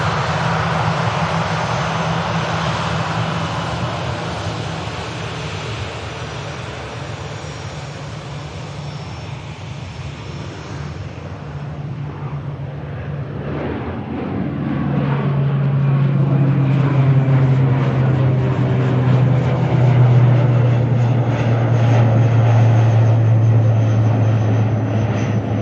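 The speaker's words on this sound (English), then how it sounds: "Already on the departure roll." An airliner roars down the runway on its departure roll at Manchester Airport, the steady jet rumble swelling louder and nearer partway through and then holding a heavy, sustained drone.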